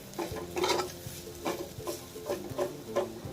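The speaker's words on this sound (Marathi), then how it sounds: "हे वाटलेलं चटणी आता ह्याला आहे ना बारीक गॅसवरती चांगलं कुरकुरीत परतून घ्यायचंय" Ground chutney sizzles softly in oil over a low gas flame while a spoon stirs and scrapes rhythmically against the pan, quiet and close.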